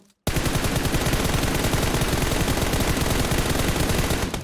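Sustained rapid automatic gunfire from the mobile battle royale game PUBG Mobile, loud and continuous for several seconds after a brief quiet start, with no talk over it.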